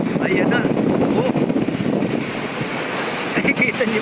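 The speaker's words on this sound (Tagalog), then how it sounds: "Ayan, ang lalaki ng alon." Big ocean waves wash onto a beach at Dingalan, Aurora, with a broad rushing roar and buffeting wind on the microphone, while someone talks excitedly over the surf.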